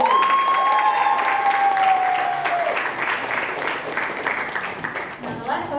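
An audience at a poetry night applauds a poet in a loud, dense burst of clapping that fills the room. A sustained tone sounds over the opening seconds, and the clapping gradually thins out.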